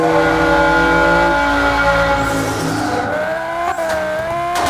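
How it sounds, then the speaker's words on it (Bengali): In-game car engine from Car Simulator 2023 droning steadily inside a tunnel, a loud sustained tonal hum with shifting pitch and echoing reverberation throughout. "আর টানেলের ভিতরে আওয়াজ তো হয় ইঞ্জিনের।"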